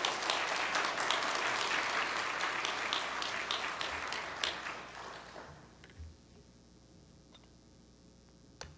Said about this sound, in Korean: 우리 나오실 때 한번 크게 환영의 박수 올립시다.